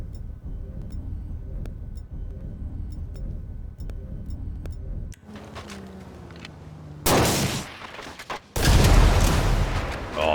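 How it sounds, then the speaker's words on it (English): Nuke explosions in GTA 5: a sparse series of faint ticking pops first, then two loud, broad booming blasts, the second heavier and sustained, close and filling the mix. "Got the nuke explosions"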